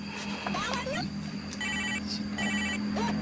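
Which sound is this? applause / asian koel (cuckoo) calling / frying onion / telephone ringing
telephone ringing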